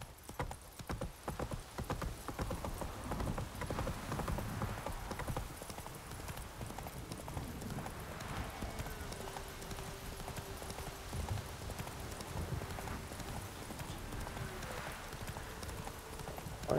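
Roach, the horse in The Witcher 3, pounds along at a gallop: rhythmic hoofbeats stay fairly quiet but constant, with a short neigh partway through.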